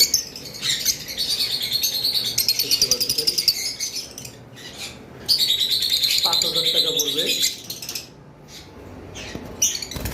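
A pair of blue lovebirds chirp rapidly and continuously in high, bright bursts, close by, with a brief pause midway before the chattering resumes.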